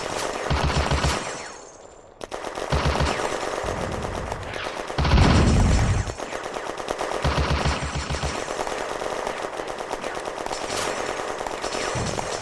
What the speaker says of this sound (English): The French tanks are putting down withering fire.